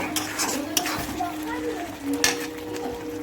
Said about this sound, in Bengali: আরও কিছুক্ষণ আমি পাঁচ মিনিট ভালো করে কষিয়ে নেব